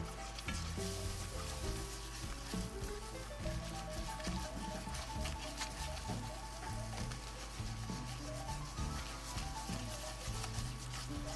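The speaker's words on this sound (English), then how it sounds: "And you want to whisk it until it is turning a brown color." A whisk rubs and scrapes steadily through a roux sizzling in a hot pan, a continuous close-up frying hiss with rhythmic stirring strokes and no talking.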